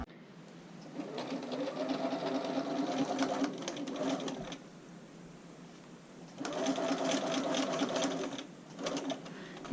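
A sewing machine stitches a seam in two bursts of steady, fast needle chatter separated by a quieter pause, recorded close up at moderate volume.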